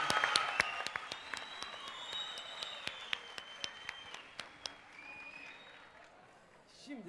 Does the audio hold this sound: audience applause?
yes